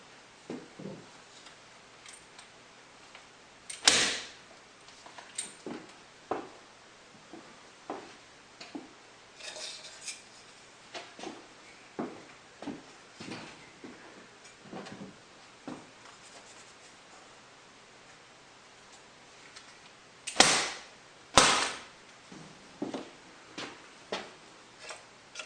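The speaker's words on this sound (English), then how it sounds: "For these thin ones, a stapler works better than a hammer." A stapler fastens thin tongue and groove ceiling boards in a log home, giving scattered sharp clacks and taps, with two louder snapping shots standing out among quieter handling knocks in an otherwise quiet room.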